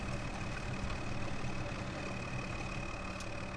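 A harvester engine runs in Farming Simulator 2013 during a sugar beet harvest, giving a steady, constant drone that holds at an even level across the whole stretch, with no talk.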